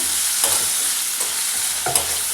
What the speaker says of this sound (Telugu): ఆనియన్స్, అవన్నీ కూడా ఫ్రై చేసుకుందాం. మిర్చి, ఆనియన్స్ వేసుకున్నాము.